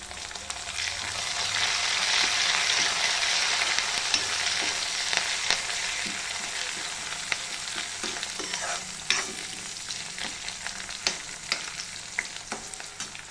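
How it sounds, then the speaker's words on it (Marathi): Curry leaves sizzle with browned onions in a pan for chapati upma, a steady close frying hiss with frequent clinks and scrapes of stirring throughout. "आता हे चांगलं लाल रंग येईपर्यंत आपण कांदा परतून घेतलाय। आता मी जाऊन टाकते कढीपत्ता।"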